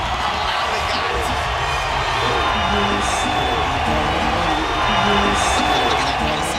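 A loud boxing arena crowd roars and cheers continuously ahead of a Canelo vs. Golovkin prize fight, with occasional whoops rising from the dense, sustained noise.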